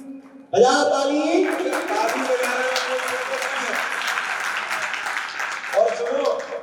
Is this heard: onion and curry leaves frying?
no